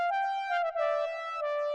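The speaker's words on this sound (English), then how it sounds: "So I drew in this lead pattern that sounds like this." A bright, sustained synth lead drawn into a pattern in a DAW, a clean harmonic tone gliding between a few held notes with a brief dip midway, played alone and upfront.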